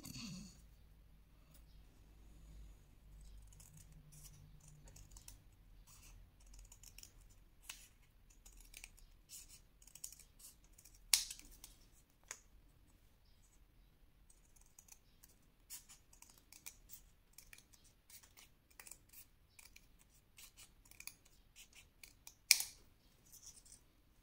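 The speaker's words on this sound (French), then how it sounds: "Ensuite, forcément, vous allez couper." Paper strips being cut with scissors for a scrapbook fan: sparse, quiet snips and rustles with a few sharper cuts near the middle and end, and no talking.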